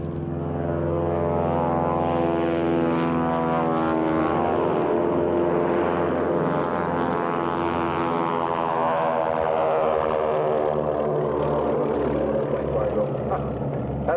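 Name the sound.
propeller aircraft taking off at air show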